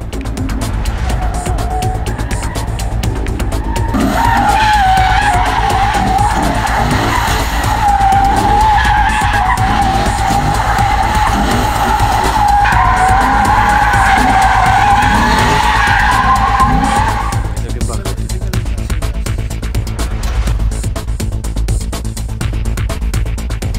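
A Lexus driven sideways on a track, its tires squealing loudly for a long drifting run over the roaring engine, then fading as the slide ends.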